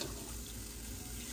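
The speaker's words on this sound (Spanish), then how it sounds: "Vamos a vaciar aquí a esta vasija" Water poured into a cooking vessel in a home kitchen, a steady continuous splashing gush that stays loud and close for the whole moment, with no talking.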